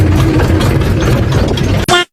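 A tractor engine idles at a farm, a loud, close, steady low throb that holds evenly before a sudden clunk and a brief final burst of sound.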